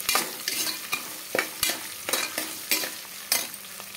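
Chopped onions sautéing in a pan for wheat rava upma, with a steady sizzle broken by regular scraping stirs roughly every half second, close and fairly loud.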